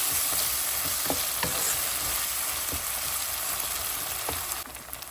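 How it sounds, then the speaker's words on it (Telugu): Onions and green chillies fry with a spoon of ginger-garlic paste in a pan for a stuffed brinjal tomato curry, giving a steady close sizzle with scattered stirring clicks and scrapes throughout. "ఉల్లిపాయలు పచ్చిమిరపకాయలు వేగుతున్నప్పుడే ఒక స్పూను అల్లం వెల్లుల్లి పేస్ట్ కూడా వేయాలి"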